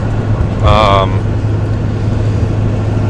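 A diesel vehicle cruising on the road, a steady low engine drone and road rumble inside the cab, with a brief tonal whine early and a person talking over it.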